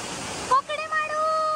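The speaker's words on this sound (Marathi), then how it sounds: "तिथे जरा पाण्याचा प्रवाह जास्त वाटतोय मला" Water rushes steadily over rocks at a hidden waterfall stream in the Kokan hills near Sawantwadi, a close, broad wash of flow that drops away briefly partway through while a voice speaks over it.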